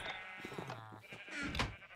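Sheep in the video game Minecraft, with a couple of short, nasal bleats heard close and clear amid light game sounds.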